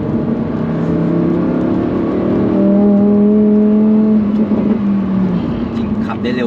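A Lamborghini Huracan STO accelerates hard around a rain-wet race track, its engine note climbing steadily through the revs for several seconds and then easing off, with someone talking over the loud, close engine.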